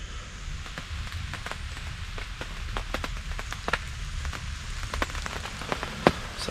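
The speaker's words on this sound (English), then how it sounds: "So I'm unsure whether or not the rain was going to hit. Sure enough, it did." Rain patters on a ground blind while deer hunting, a dense, steady hiss with many irregular sharp drops striking close by, one louder tap near the end, and no voices.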